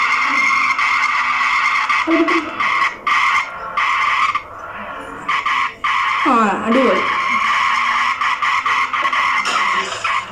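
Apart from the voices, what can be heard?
car skidding in a video game (Ice Cream Man horror game)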